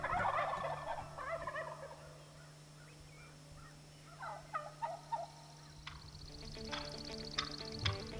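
A wild turkey gobbles in the South Dakota countryside, a loud rattling burst at the start followed by fainter, more distant gobbling calls and clucks over a steady low hum.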